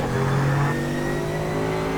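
A Mercedes AMG GT3 race car in iRacing at Spa holds a steady, loud engine drone with a sustained high rev, close and continuous with no talk.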